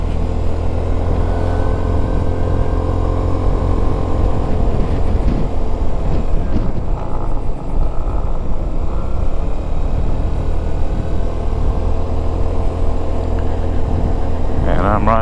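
Steady loud engine and wind roar from a Suzuki Burgman 200 scooter cruising on an open road, continuous throughout with a person talking over it.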